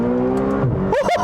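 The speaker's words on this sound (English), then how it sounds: "Listen to the noise that this engine makes." A 2020 McLaren GT supercar engine revs hard through the gears, a loud close drone that dips and then climbs again in quick rising surges.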